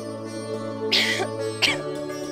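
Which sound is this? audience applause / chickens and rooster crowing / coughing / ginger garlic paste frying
coughing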